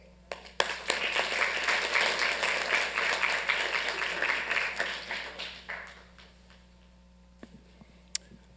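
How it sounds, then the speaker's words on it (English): An audience at a Santa Ana city council meeting applauds, a dense round of clapping that fades out after about six seconds, leaving a quiet room with a few faint clicks. "we just want to give them another round of applause"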